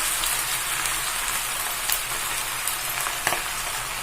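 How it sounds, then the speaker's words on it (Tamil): Spinach greens being rinsed in water, a steady wet splashing hiss with a few sharper splashes, close and alone. "கீரையை அலசி எடுத்துக்கலாம்."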